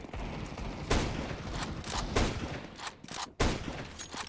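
Counter-Strike 2 rifle fire on the Alpine map sprays in a string of sharp, fairly loud reports with uneven gaps, a full-magazine burst of crisp cracks over a noisy backdrop.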